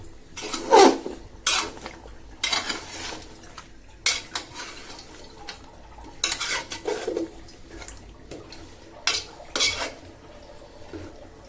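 Beef bones with radish and potato are stirred in a pot, with loud clanking spoon scrapes against the metal in irregular bursts over a faint, low cooking sizzle.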